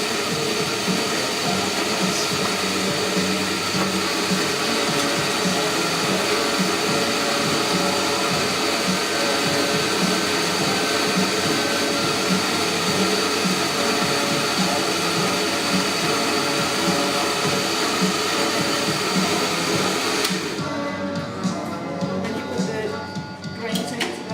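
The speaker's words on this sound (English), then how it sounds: "the beans go in on the top. You fill it up in the morning. Yeah. And press the button, and it will go through the machine like that" A pink bean-to-cup coffee maker grinds beans loudly in a continuous whirring drone for about twenty seconds, then cuts out, leaving quieter mechanical clicks and rattles.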